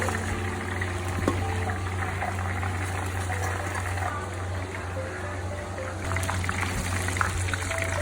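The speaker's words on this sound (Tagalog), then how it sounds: "At bali nga, 2 batch yung pagpiprito ni Mama kasi marami talaga yung isda." Fish frying in a batch of darkened rapeseed oil in a countryside kitchen in China, a continuous close sizzle and crackle over a low steady hum, with no voices.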